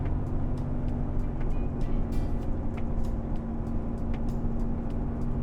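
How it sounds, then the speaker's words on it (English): A loaded semi truck of about 76,360 pounds rolls down a mountain grade in a low gear at around 45 mph, its engine giving a steady, close drone with a constant low hum throughout. "Very important to start out in a lower gear so that your engine can help to slow your truck down."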